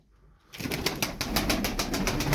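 Tumbler pigeons burst into flight one by one, a loud, close flurry of flapping wings that starts abruptly after a moment of quiet and keeps beating in a rapid, steady rhythm.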